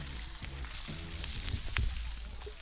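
Spam, shallots and garlic fry on a gas stove with a steady, soft sizzle and a few sharper pops and crackles, while someone speaks over it nearby.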